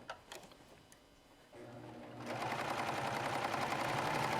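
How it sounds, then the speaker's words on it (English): A serger sewing machine stitches a decorative seam through fabric, its motor starting up and then running in a loud, steady whir that continues alone to the end. "Now, as I stitch, wrong sides together again, just simply stitch, and away you go."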